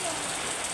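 Steady rain patters on clay roof tiles, a dense, even hiss of drops with no break across a brief moment.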